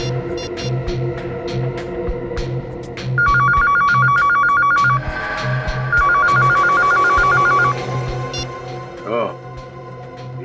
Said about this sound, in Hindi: जरा उस नंबर पे फोन लगा।